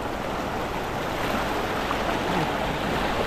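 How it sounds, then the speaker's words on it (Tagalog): A strong, fast river current rushes in a continuous loud roar of churning water, steady and close, with no voices over it. "Ang lakas na agos."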